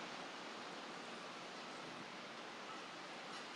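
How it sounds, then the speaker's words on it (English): Ocean surf near sunset heard as a steady, soft, broadband wash of waves, faint and continuous with no distinct breaks or voices. "Okay, this is the ocean."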